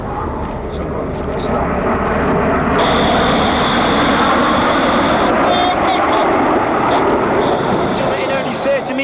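RAF Red Arrows jet aircraft flying a display at RIAT 2024, a loud continuous roar of jet engines filling the air with a steady broadband rush, while an announcer talks over it.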